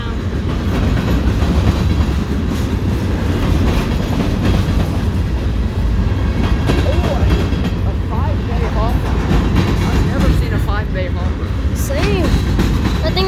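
A CSX freight train led by a lashup of five EMD diesel locomotives rumbles past up close near a rail yard, with continuous loud wheel clatter and clickety-clack, and people talking underneath.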